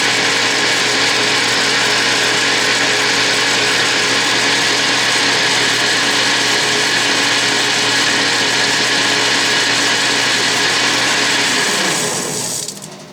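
A South Bend metal lathe turns a milling arbor with a loud, steady machining whine and hum that holds unbroken, with some vibration, then winds down and cuts off near the end.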